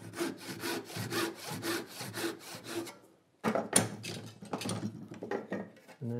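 A hand saw rips through scrap wood while a dovetail template is made in a woodworking shop, steady rhythmic back-and-forth strokes close up, a brief pause, then sawing resumes more irregularly.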